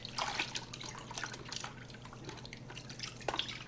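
Knit cotton socks are worked around by hand in a hot wheat bran bath, giving soft, quiet sloshing and dripping splashes in a loose irregular rhythm, close and without speech.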